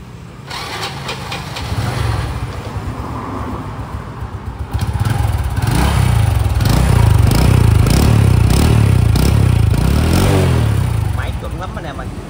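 A 2001 Honda Future motorbike engine cranks and catches, then idles with a lumpy putter and rises into revs, loud and close, while someone talks over it.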